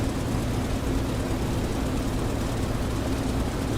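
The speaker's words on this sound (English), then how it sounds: "The noise of the engine is a little bit underwhelming, at least in comparison with like the P47 from inside the game." A World War II F4U-1 Corsair's piston engine in the DCS flight simulator drones steadily in the cockpit. The roar is continuous and fairly loud, with a low hum and no talk.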